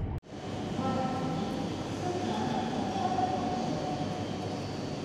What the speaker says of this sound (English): I much prefer to take the train rather than be cooped up in a plane